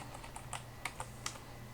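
Computer keyboard keys click in a sparse, irregular run of a handful of light taps over a steady low hum, quiet and with no speech.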